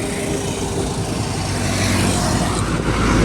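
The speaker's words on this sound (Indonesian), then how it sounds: "Hino 500 wing box merah." Red Hino 500 wing box truck rumbling past nearby, a steady loud engine and road roar that swells slightly toward the end, with no voices.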